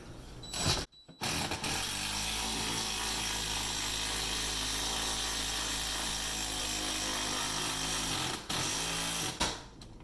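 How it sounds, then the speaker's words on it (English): An impact drill driving a screw into shiplap runs loudly for several seconds, cutting out briefly near the start and again near the end, with a grinding mechanical buzz. "I've got an impact drill here so it goes in nice and smooth."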